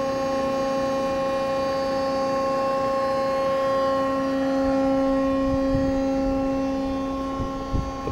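A hydraulic pump driving a single-acting scissor lift through a Vickers proportional valve gives a steady, fairly loud tonal whine with a strong hum, holding throughout and dipping slightly near the end.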